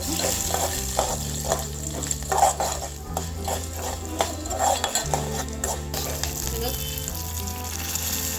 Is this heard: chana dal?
yes